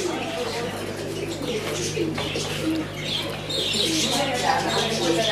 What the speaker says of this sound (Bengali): আপনাদেরকে এখন কবুতরগুলো একটা একটা করে দেখাবো